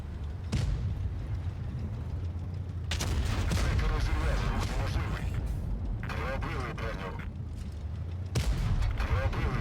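Heavy booming tank cannon shots from a video game ring out several times over a dense, continuous rumble of battle noise.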